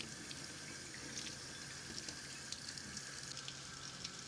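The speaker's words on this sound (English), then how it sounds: "rinse it off and brass brush it with nice soapy water" Water runs steadily as a metal piece is rinsed off after soaking in a solution, a faint, even hiss with small splashes and no voices.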